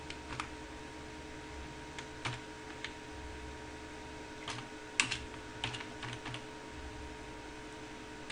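Java code is typed on a computer keyboard in quiet, scattered bursts of soft key clicks, near but faint against a low steady hum, with no talking.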